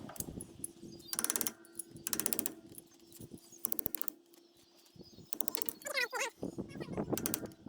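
A worn, rusted hub bearing from an International 1-6 disc plough turns with intermittent metallic grinding and rattling. Bursts of rough, gritty scraping come and go over several seconds, close and fairly loud, with brief quieter gaps between them.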